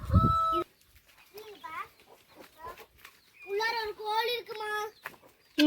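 A hen clucks on an organic egg farm, with a loud squawk at the start and later bursts of close, rhythmic clucking between quiet gaps, alongside people talking.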